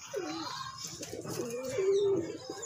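Pigeons coo softly nearby in low, throaty warbles, with faint background chatter and rustling.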